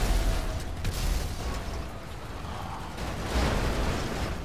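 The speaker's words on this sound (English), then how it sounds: "Explosions are so good." Explosions in the video game GTA 5, a sustained loud rumbling roar with deep low-end booms, swelling again near the end as another blast hits.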